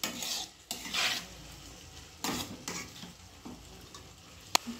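A spoon stirring egg batter with potato, tomato and red chili powder for an Afghani omelette, giving soft scraping, rubbing strokes against the bowl in intermittent bursts, fairly quiet, ending with a brief clink.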